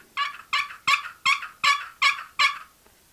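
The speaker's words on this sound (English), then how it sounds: "Here's another box call" A spring-loaded, pinch-style turkey box call, worked one-handed, gives seven sharp, evenly spaced yelps. Each note is raspy and close, and no other sound plays under them.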